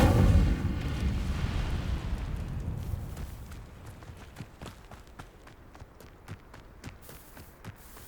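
An Incendio fire spell is cast in Hogwarts Legacy, a heavy whooshing burst that fades over a few seconds, followed by a run of quiet, regular thuds like footsteps.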